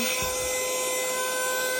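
A small vacuum cleaner runs with a steady, high whining motor drone, constant and close throughout, with brief low rubbing sounds near the start.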